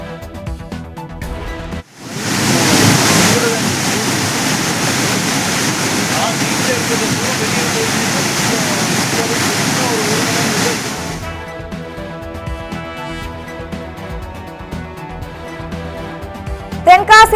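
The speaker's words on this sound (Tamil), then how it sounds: "அருவிகளில் அபாய கட்டத்தை கடந்து தண்ணீர் ஆர்ப்பரித்து பாய்கிறது." Flooded Courtallam waterfalls in heavy rain pour down in a loud, steady, broadband roar that starts abruptly and holds for about nine seconds before cutting off, with voices underneath.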